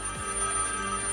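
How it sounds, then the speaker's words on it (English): A telephone rings with a steady, sustained electronic tone that holds through the whole short moment at a moderate level, with no voices over it. "That's the phone."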